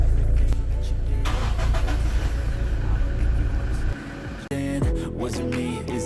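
Diesel vehicle with a DPF cold-starts on a 34-degree morning, first an idling rumble, then a brief cutoff, a cranking whir and the engine catching and settling into a fresh idle, all close and loud.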